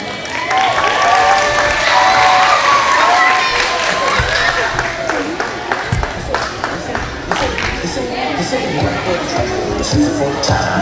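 A crowd at a school Red Ribbon rally claps and cheers for the Bobcat cheer team, loud sustained applause with whoops and shouts and lively babble throughout.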